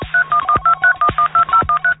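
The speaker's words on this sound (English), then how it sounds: "Just pick up your phone and dial" Telephone keypad dialing, a quick run of about a dozen loud DTMF tones, evenly spaced beeps sounding alone with no talk.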